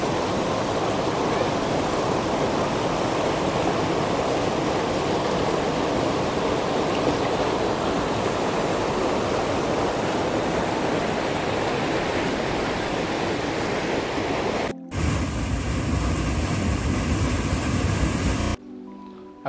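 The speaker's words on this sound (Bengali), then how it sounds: "জলের স্রোতটা দেখ, প্রচুর জলের স্রোত।" Strong stream current rushes near a waterfall in a dense, constant roar that stays loud and close for the whole stretch, with a brief cut near the end.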